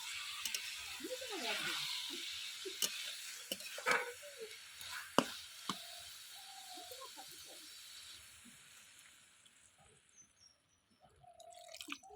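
Water goes into a pan of cabbage and potatoes browned in oil, setting off a close, soft sizzle with scattered drips and bubbling pops that gradually fade to a quieter simmer.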